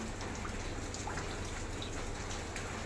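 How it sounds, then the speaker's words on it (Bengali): Large raindrops fall steadily outdoors in late-afternoon rain, a dense continuous patter at moderate distance with no voices. "বেশ বড় বড়ই ফোটা পড়ছে"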